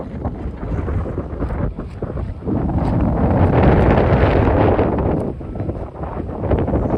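Strong storm wind in an unseasonal summer windstorm buffets the microphone in loud, sustained gusts, swelling into a steady roar with no voices.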